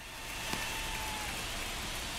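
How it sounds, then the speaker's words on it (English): Heavy rain pouring in the baseball game MLB The Show 24, a steady broadband hiss of falling water that stays even and moderately loud throughout with no talk. "Yeah, it is raining. It's pouring hard."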